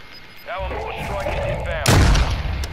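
Gunfire in the battle royale shooter Warzone 2.0: a muffled shot early on, then a loud, close blast near the end, over continuous game noise with some speech.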